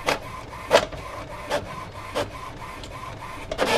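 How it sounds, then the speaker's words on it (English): A 3D printer converted from a 3D milling machine runs its motor, giving a steady mechanical hum broken by several short, brushing whirs at uneven intervals, close by with no talking. "deze motor zit op een 3D frees die ik omgebouwd heb tot 3D printer"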